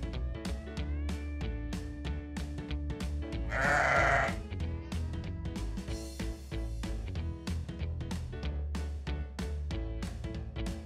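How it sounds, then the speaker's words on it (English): A sheep bleats in a farm-animal guessing game for toddlers, repeated wavering calls that are close and clear, with a brief louder rush of noise partway through. "Now, where is that sheep hiding?"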